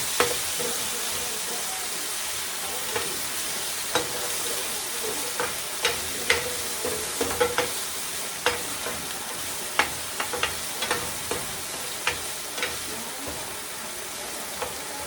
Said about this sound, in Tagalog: Ganito pagigisa sibuyas bawang muna